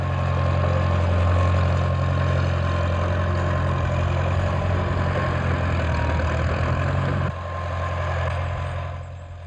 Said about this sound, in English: This is a Farmall Super A tractor from around 1940.